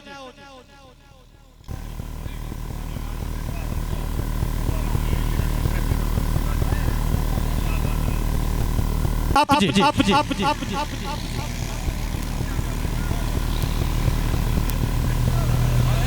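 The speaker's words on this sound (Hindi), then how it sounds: "अगला अपना ट्रैक्टर लाओ जी" Tractor engine droning steadily at a tractor disc-pulling competition, a loud continuous low rumble with a brief sharp clatter midway, while a man repeatedly calls out over a sound system.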